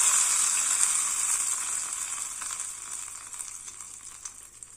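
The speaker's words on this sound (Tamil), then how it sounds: "இதுக்கு ஒரு தாளிப்பு ஒன்று கொடுத்துடலாம்" Mustard seeds, urad dal and curry leaves crackle and spit in hot oil as a tempering for chutney, a bright, close sizzle that starts strong and slowly eases off.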